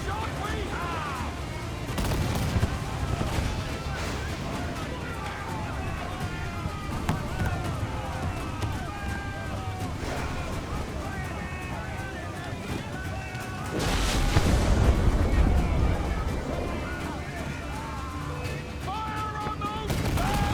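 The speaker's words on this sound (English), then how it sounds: "Fire! Fire! Unload all the shot we have!" Ship cannons fire repeatedly during a naval battle in Assassin's Creed IV Black Flag, a continuous rumble of blasts and splashing water under shouted voices, swelling louder for a stretch toward the end.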